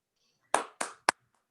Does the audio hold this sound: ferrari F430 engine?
no